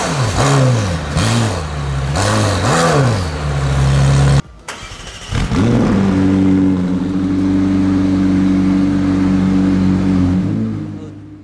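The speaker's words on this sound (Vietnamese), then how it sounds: "tiếng pô sẽ nổ lớn và uy lực hơn" A McLaren Senna exhaust blips through three sharp revs, then the engine settles into a loud, deep, rumbling idle close by.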